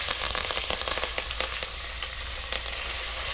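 Dried red chillies and curry leaves sizzle and crackle loudly in hot oil for a tempering, a dense hiss with rapid popping bursts throughout, close up and with no talking.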